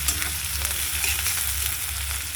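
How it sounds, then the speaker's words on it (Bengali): Onion fries with black cumin in a pan, giving a close, continuous crackling sizzle over a low steady hum. "পেঁয়াজটা ভাজা ভাজা করে একটু জল দেবো"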